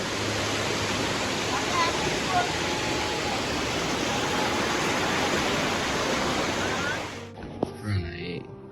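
Ham Ham waterfall in Sreemangal roars with a dense, steady rush of falling water for about seven seconds, then cuts off abruptly, leaving a few faint, scattered sounds.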